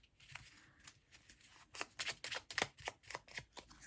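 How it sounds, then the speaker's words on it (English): A deck of tarot cards is shuffled by hand, giving a quiet, close run of crisp riffling flicks that grows busier and more rhythmic toward the end, with no talking. "Let's shuffle a little bit more."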